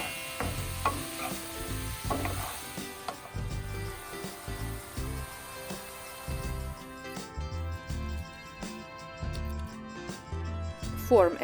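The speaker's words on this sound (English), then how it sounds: "In 10 minutes add mushrooms and fry all together." Onions and mushrooms sizzle and crackle in a pan while a utensil stirs and scrapes at irregular intervals, with clinks of metal throughout.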